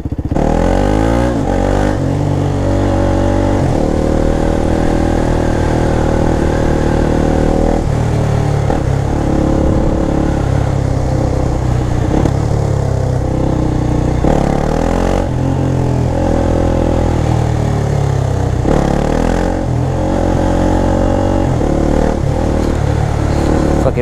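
A KTM Duke 390 motorcycle accelerates hard through repeated gear changes on a night ride, loud and close throughout, with the engine note rising and dropping between shifts and wind roar underneath.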